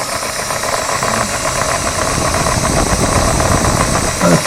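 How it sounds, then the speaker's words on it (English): A small model ship engine in an engine room diorama runs steadily, a loud, continuous mechanical chugging and whirring with a rapid knocking pulse and no speech. "If I turn the compressor off for a minute, you can hear the engine itself."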